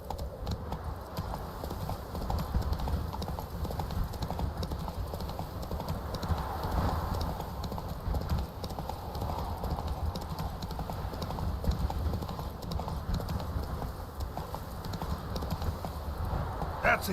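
Horse hooves clip-clop in a steady galloping rhythm in the video game The Witcher 3, close and continuous, with occasional snorting and no talk.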